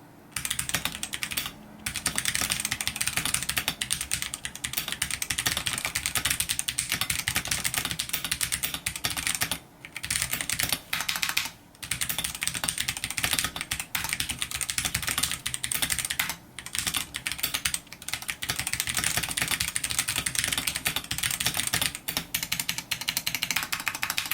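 Rapid, continuous clacking of a Ducky One 3 SF 65% mechanical keyboard being typed on up close, with brief pauses between bursts and no talking.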